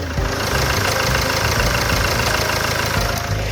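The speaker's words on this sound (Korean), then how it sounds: "엔진룸 개폐했습니다. 엔진음 들어보시죠." A 2017 Land Rover Evoque engine idles steadily with a dense, even rumble and a constant mechanical hum, no voices.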